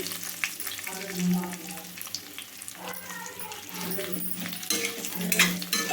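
Potato pieces fry in hot oil with curry leaves while being stirred in a pan, producing a soft, steady sizzle with intermittent scraping and clinking of a spoon against the pan.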